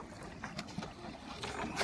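Boat on a backwater moving through water, low wash and splashing with faint wind buffeting the microphone, brief and fairly quiet.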